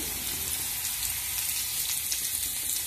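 Ginger-garlic paste and chopped onion sizzle in hot frying oil tempered with black cumin and bay leaf, a steady close crackling hiss with no pauses.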